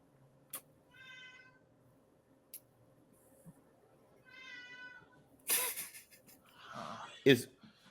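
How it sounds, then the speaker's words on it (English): A cat meows outdoors in two drawn-out calls with a few faint clicks between them, followed by louder rustling and thumping noises near the end. "cat outside it is"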